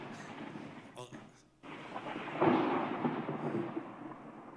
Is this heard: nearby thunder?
yes